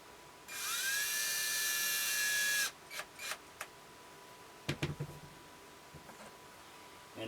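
A power screwdriver drives a screw into wood while building a wooden ventriloquist dummy figure: one steady, loud high whine for about two seconds, followed by a few short clicks and knocks of handling.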